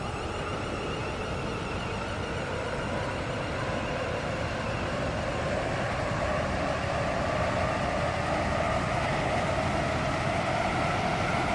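A Roblox video game train rumbles steadily along with a continuous broadband roar and a faint rising whine, even and unbroken throughout, with no speech.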